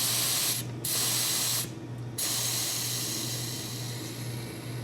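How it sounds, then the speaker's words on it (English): Compressed air hisses steadily from a pneumatic valve line on a department store heating control system, a loud broadband spray broken by two short pauses, with no talk. "we're gonna kill the air here going to it"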